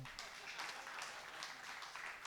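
Audience clapping at a Jain religious discourse, a soft, steady patter of many hands that stays faint and fairly distant throughout.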